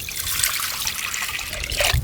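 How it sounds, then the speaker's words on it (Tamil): Water trickles and splashes steadily as it is poured over washed drumstick leaves (murungai keerai) to cook them for a soup, close and fairly loud throughout, with no talking. "தண்ணி"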